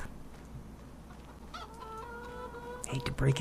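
A chicken in Farming Simulator 25 clucks and calls in short pitched bursts, close and clear, ending in a louder flurry of squawks, over a soft game ambience.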